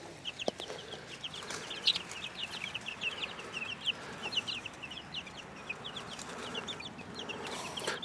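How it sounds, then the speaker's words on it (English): Ten young chicks, Leghorns, black sex links and Wyandottes, in a converted brooder coop, giving soft continuous high peeps and chirps at close range over a low background hum. "So again, we've got 10 chicks here."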